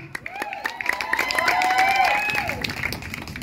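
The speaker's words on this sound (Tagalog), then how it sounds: "Palakpakan po natin ang Team Ryan Magadya, Bata at Sariwa, Kapitan Ryan Magadya!" A crowd at an evening barangay election campaign rally applauds and cheers, with loud amplified talk and whoops over the clapping.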